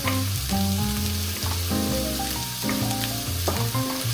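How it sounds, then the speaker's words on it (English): Red onions and red pepper fry and sizzle in a pan as they are stirred, alongside a black bean dish. The sizzling is a steady crackle that runs throughout, under louder background music with distinct tones. "Give that a good stir as well, our red onions and red pepper."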